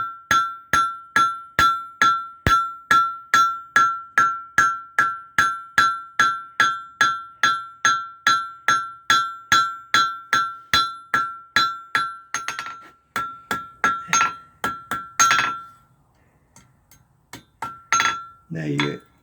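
Blacksmith at Luray, Virginia, hammering and shaping metal: a long run of about thirty steady, evenly spaced ringing metallic strikes close by, followed by a few scattered, irregular clanks.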